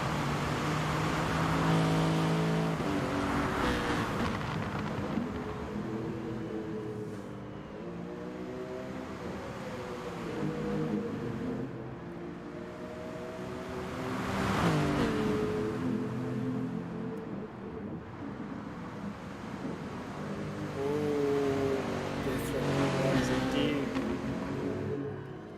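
Race cars lap the Spa circuit in a pro-am race, engines droning and shifting pitch as they pass by at mid distance. Commentary voices run over the car noise throughout.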